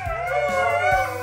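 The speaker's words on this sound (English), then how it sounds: "The nightly howl draws in roaming lone wolfers from across the house" A dog howls indoors in a house, a drawn-out, mournful wavering tone that rises and falls, close and moderately loud, with a brief yip near the start.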